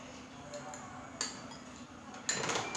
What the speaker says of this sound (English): it's just a little tapping of the back of the spoon